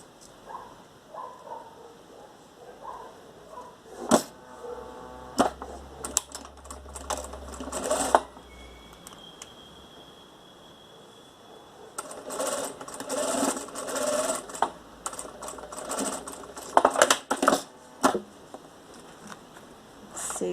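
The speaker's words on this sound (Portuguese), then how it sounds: "eu vou passar uma costura de segurança aqui" A sewing machine runs a safety seam through fabric on a zipper pouch, stitching in several bursts of fast rhythmic clatter with pauses and small handling knocks between runs, close and fairly loud.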